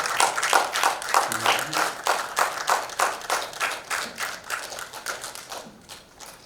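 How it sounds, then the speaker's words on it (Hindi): Audience applause at a celebrity awards ceremony, a dense, steady wash of many hands clapping that keeps going for several seconds, fading slightly toward the end, with a brief voice partly heard underneath. "जोरदार तालियों से उत्साहवर्धन कीजिए और स्वागत कीजिए सुनील पाल जी का"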